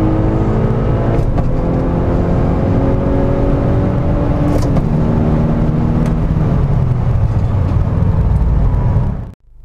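An APR-tuned car accelerates hard through gears with no-lift shifts, loud close engine drone climbing in pitch and dropping sharply at each quick shift, rising again before cutting off abruptly at the end.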